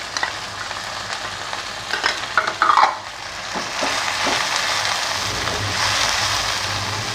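Biryani masala is stirred in an oily pan, a steady frying sizzle mixed with scraping spoon strokes and a brief clatter, close and fairly loud before settling into an even hiss.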